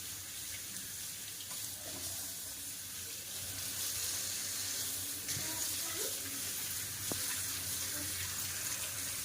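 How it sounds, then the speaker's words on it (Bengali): Tap water runs steadily into a sink as raw meat for biryani is rinsed, a soft continuous wash of water with a few faint clinks underneath, no talking. "মাংসটা ধুয়ে এক্ষুনি বানিয়ে দিচ্ছি"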